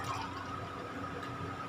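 Water from a glass being poured into a cooking pot of mutton set for stewing on a stove, a steady continuous splashing pour with no talk.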